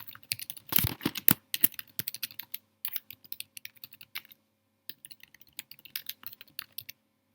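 Steady typing on a computer keyboard while setting up an Odus chat-bot request, with a dense burst of rapid keystrokes early on, then scattered clicks and short runs of keys, close and fairly quiet, with no talking.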